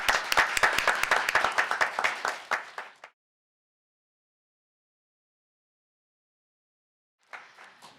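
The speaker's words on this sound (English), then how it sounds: "Please welcome Ms. An with loud applause." Loud audience applause and clapping at an international conference session fills the first three seconds, then stops abruptly into silence before a brief burst of clapping returns near the end.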